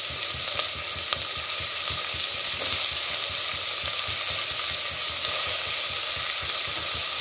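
Potatoes for a Karnataka-style veg sagu fry and sizzle steadily in a pan, a close, continuous hiss with faint stirring taps.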